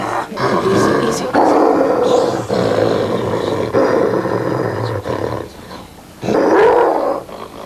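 A dog growls in low, rumbling bursts while being handled for a veterinary examination, near and loud, with short pauses between the growls and movement noise mixed in.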